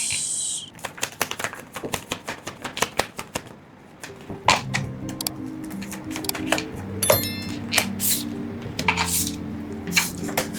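Tarot cards are shuffled in quick, crisp flicks and snaps, then slide and tap more softly as they are drawn, nearby and without talk.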